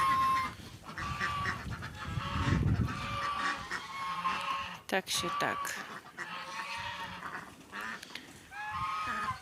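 Geese honk repeatedly in bursts nearby in a village, with brief talking mixed in and some outdoor background noise.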